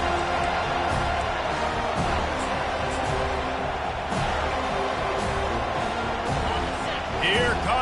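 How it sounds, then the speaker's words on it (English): A home crowd roaring at a football game on third down, a steady loud wall of cheering throughout, with a commentator talking over it. "Here comes his home crowd as the defense tries to get off the field on 3rd down."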